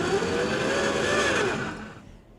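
A 2025 AWD Toyota Camry on a slip test, its left front wheel spinning with a steady, loud engine drone and whirring tire noise that fades away near the end.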